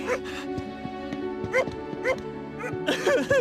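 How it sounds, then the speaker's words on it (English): A dog in the video game Neverness to Everness gives several short yips and whimpering barks over a steady droning game soundtrack, moderately loud and close. "Where have you been, you bad doggy?"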